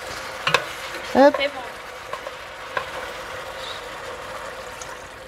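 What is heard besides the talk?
veal pan deglazed with water, sizzling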